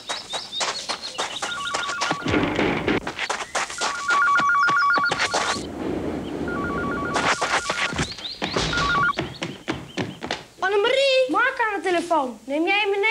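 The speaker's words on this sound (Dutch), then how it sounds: "Telefoon." A household telephone rings in repeated electronic bursts, mixed with speech and a cat-like meow near the end in a Dutch 1991–1992 TV commercial.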